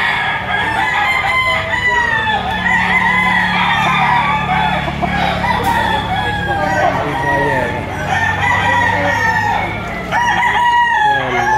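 Roosters crow repeatedly at a busy chicken market in Lipa, Batangas, their overlapping calls rising from several birds near and far over a steady bed of crowd murmur and background voices.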